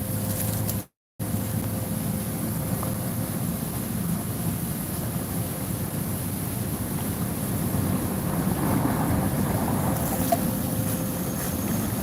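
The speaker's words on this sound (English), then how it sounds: "The wind's back" Wind blows outdoors, buffeting the microphone as a continuous broad rushing roar that holds steady for the whole stretch, with one brief dropout near the start.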